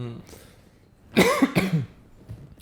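A single harsh cough bursts out close by, with a quieter second burst right after, against a quiet background.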